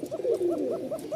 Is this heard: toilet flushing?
no